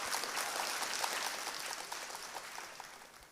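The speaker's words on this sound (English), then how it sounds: "A round of applause, please" Audience applause at a Delta State Security Trust Fund event, a sustained wash of clapping from a crowd, fairly faint and distant, gradually tapering off.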